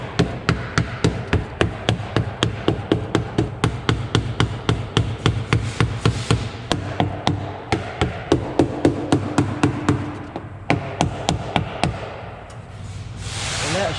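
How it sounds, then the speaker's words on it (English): A big screwdriver taps repeatedly around the top of an Xterra fuel pump, producing a steady run of sharp, loud metallic knocks close by, a brief pause near the end before a few more hits. "Now I'm just gonna take a big screwdriver and kind of tap around here at the top of this"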